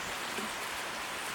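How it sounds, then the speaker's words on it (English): Rain falling outdoors over a garden, a steady soft hiss of drops with no distinct individual hits. "And it's starting to rain."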